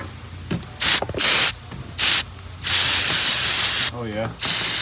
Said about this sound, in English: Give that seam a little spritz.